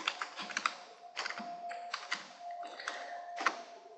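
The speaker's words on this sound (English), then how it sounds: "over here I'm going to type in the word percentage." Typing on a computer keyboard while entering a word into an Excel spreadsheet, with quick irregular clusters of close, crisp key taps and short pauses between bursts, heard alone without talk.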